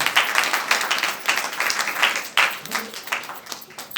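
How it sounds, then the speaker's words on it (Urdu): An audience at a Christmas church service claps in a steady, dense patter that continues throughout, with some voices mixed in. "زوردار تالیاں اپنے خدا کے لیے بجا سکتے ہیں"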